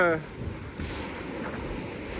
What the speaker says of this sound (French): Ça vient dans tous les sens les vagues.